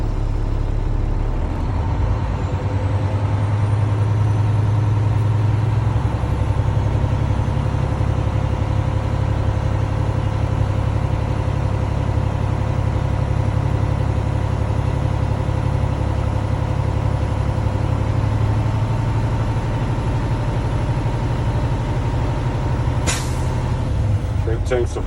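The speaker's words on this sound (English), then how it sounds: "Now I'm gonna rev it to 1400 RPMs to reset my air tanks." A truck's diesel engine is held at raised revs to refill its air tanks, a loud, steady drone that holds for the full stretch, ending with a short hiss or clunk near the close.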